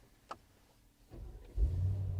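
A 2022 Brabus 800 Adventure XLP G 63 pickup with an 800 hp engine starts up, giving a click, a brief crank and then a deep, rising rumble that settles into a steady, loud idle.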